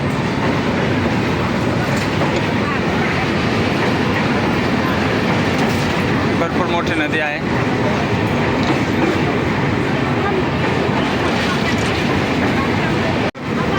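A train crosses a bridge over the Ganga river, heard from on board as a loud, continuous rumble with rattling clatter from the carriage. A voice speaks over the noise.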